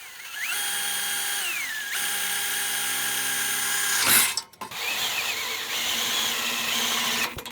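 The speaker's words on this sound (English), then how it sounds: "we need to drill all the way through on this side" A power drill with a 5/16 bit whines steadily at close range, pitch shifting as it bites through a Ford Transit's steel frame, with a brief clattering break before the drilling resumes.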